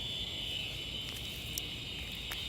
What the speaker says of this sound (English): Sounds more like cicadas.